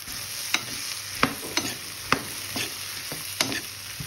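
Okra frying with onions in a pan, stirred with a utensil, giving sharp intermittent scraping knocks about every half second over a faint steady sizzle, close and alone.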